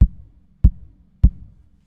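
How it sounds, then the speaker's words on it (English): Pickup stomp box sound from a Drumport Laser Stomp drum pedal: three deep, thumping low hits at an even pace, each a short boomy pulse with brief decay, close and dry with no other sound. "The first one is a pickup stomp box."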